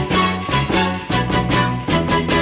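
A pitched-up chop plays as dense, loud sampled music, with bright chords and a steady bass line repeating in short looping phrases.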